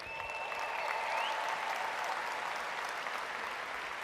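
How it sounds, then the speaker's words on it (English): An audience at a business training session gives a round of applause: even, continuous clapping from many hands, heard faint and somewhat distant throughout. "Can we give him a huge round of applause?"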